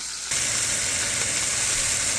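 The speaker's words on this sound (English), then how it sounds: "now we're just gonna sear it for a couple of minutes on each side" Steady, loud hissing sizzle of pot roast meat searing in a hot pan, starting abruptly and continuing without pause.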